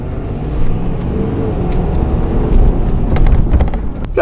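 A Ford truck fitted with a leveling kit accelerates hard, its engine a loud, steady rumble with road and wind noise building over about four seconds, no voices heard.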